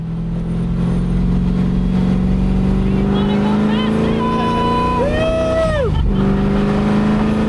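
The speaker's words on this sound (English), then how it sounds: "watch a car go around the track with us, meet Mr. Jarbo, just have a little fun." A Ford Mustang restomod's engine drones steadily, rising in pitch as it accelerates and revs past on a race track, loud and close throughout.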